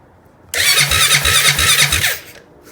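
A 2005 Honda Rubicon ATV cranks and fires, its engine catching abruptly into a loud, steady run with a rhythmic low pulse for about one and a half seconds before dropping away.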